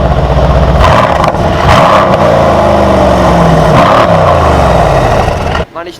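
A Mercedes C63 AMG revs loudly nearby on a London street, its engine note rising and falling through several strong pulls before cutting off near the end, with crowd noise mixed in.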